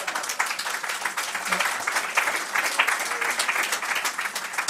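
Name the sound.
audience applause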